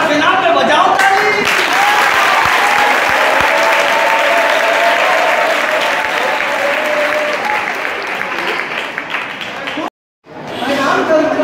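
An audience at a motivational anti-addiction talk claps loudly in sustained applause, with crowd chatter mixed in. The applause fades, cuts briefly to silence, then resumes.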